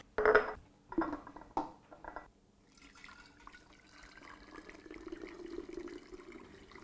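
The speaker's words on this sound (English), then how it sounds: "the last step for your vegetable stock is to put it into sealable jars and freeze it for later use" Homemade vegetable stock poured into sealable jars: a few close liquid splashes and glugs at the start, followed by a quieter, steady trickle of filling liquid.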